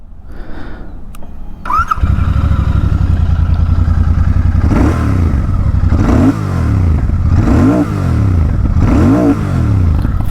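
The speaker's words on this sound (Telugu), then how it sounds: "ఎగ్జాస్ట్ సౌండ్ అయితే కొంచెం లౌడ్ వస్తుంది" A Royal Enfield Bear 650 motorcycle fires up after a short starter crank and settles into a loud, close, thumping twin-cylinder idle, then gets several blips of the throttle that rise and fall in steady surges.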